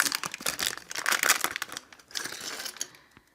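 A crinkly plastic LEGO minifigure blind bag is torn open up close, giving about three seconds of sharp rustling and crackling that fades out at the end.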